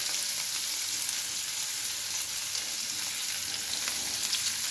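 Onions frying lightly in a pan for rohu fish bharta, giving a steady, soft hiss and gentle crackle that stays even from start to finish, with no voices.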